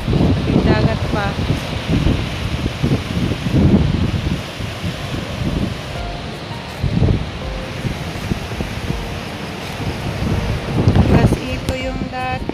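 Strong gusts of wind buffet the microphone near the sea at an abandoned garden lot, with a rough rumble and a background wash of surf, while a voice talks at times.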